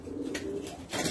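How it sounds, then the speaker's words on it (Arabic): Soft, low cooing of homing pigeons, a brief burbling call close by with light rustling around it. "وصول وجبة من حمام البطل بطل السرعة البطل كوناكس فريدريك."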